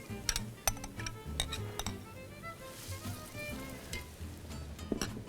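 About three medium onions sizzle in a hot pan, a steady soft frying hiss with scattered clicks and light clatter nearby.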